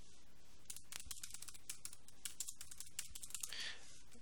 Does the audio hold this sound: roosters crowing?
no